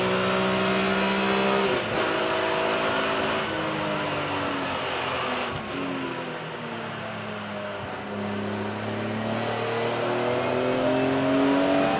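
BMW race cars roar around the Donington Park circuit during a race meeting, engines revving hard and shifting pitch as they accelerate and pass close by, loud and continuous with no talking.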